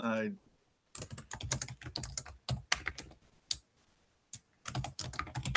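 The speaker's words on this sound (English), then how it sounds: "Serious typing going on." Brisk typing on a computer keyboard during a water quality council meeting, with close, clattering bursts of keystrokes broken by short pauses.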